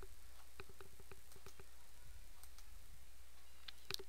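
Mouse clicks on a computer while saving a downloaded file, a quick series of faint, close ticks over a steady low hum, with no talking.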